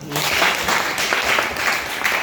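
An audience in a school setting breaks into applause, a brief continuous patter of many hands, moderately loud, filling the short stretch without speech.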